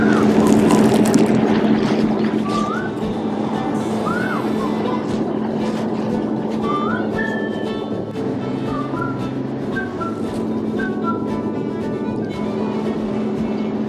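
Sea-Doo personal watercraft cruising through the Centre Island channels of Toronto Harbour, its engine a steady, loud drone close by throughout, with high tonal chirps over it.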